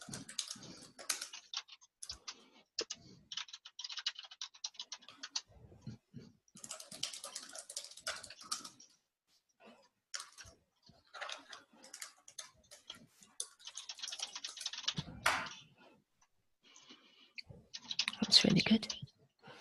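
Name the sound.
typing on a computer keyboard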